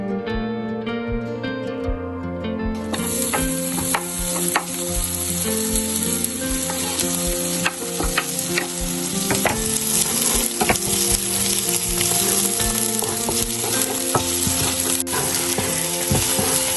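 Onion and garlic fry in oil in a pan on an induction cooker, a steady loud sizzle throughout with occasional stirring scrapes, under background music.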